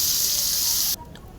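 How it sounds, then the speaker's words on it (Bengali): Pangas fish sizzles in hot oil in a wok, a loud steady hiss that cuts off abruptly partway through, followed by faint quiet sounds. "প্রথমে নুন হলুদ মরিচ দিয়ে মাছটিকে ভেজে নিব লাল লাল করে"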